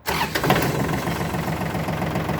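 A Kubota L1 245 tractor diesel engine cranks briefly and catches, then settles into a loud, close, steady idle with a rhythmic chugging throb, with no voices.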